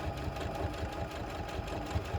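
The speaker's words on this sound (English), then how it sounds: "And we're going to sew straight down. Speed the machine up just a bit." A sewing machine stitching fabric in a straight line, a fast steady mechanical whir and rapid needle chatter, close and continuous without talk.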